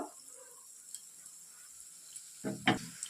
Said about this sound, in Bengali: এবার আমি লাল লাল করে ভেজে তুলে নেব